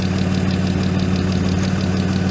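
A Citroën Xantia V6, abandoned and unused for years, idles steadily with a low, even hum and slight mechanical ticking, close and continuous with no voices.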